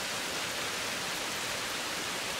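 Rain falls steadily outside, a dense, even hiss with no distinct drops, continuous and moderately quiet throughout, with no voices.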